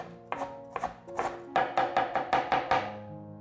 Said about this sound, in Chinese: 换一个方向，把红萝卜切碎。